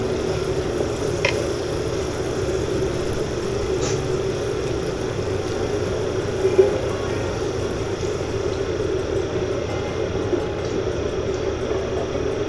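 Potato pieces frying in oil in a pan, a steady close sizzle with a low rumble underneath and a faint clink or two, continuing evenly throughout with no talking.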